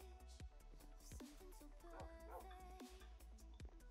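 A Minecraft dog gives short yips and barks with soft whimpers over a busy, steady game soundscape of chimes and clicks.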